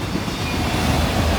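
A CSX unit auto train of rail cars rolls past at night in Folkston, led by locomotive 7006, giving a steady, loud, close rumble of wheels on track that continues throughout with no break.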